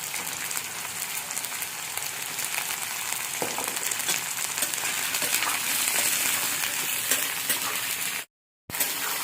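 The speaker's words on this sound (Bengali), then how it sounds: "মূলো সামান্য একটু ভেজে নেব" Radish pieces fry in a pan with a loud, dense, hissing sizzle that runs continuously, broken by a brief silent gap near the end.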